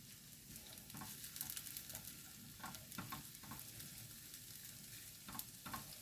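Mushrooms and lardons sizzle and crackle steadily in a hot pan, with occasional louder pops and stirring scrapes, close by and no one speaking.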